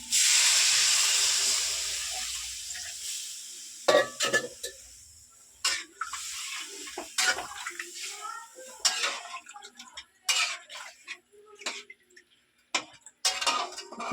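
Water poured into a pan of simmering potato curry, starting with a loud, steady hiss of steam that fades over a few seconds, followed by scattered clinks and scrapes of a utensil against the pot.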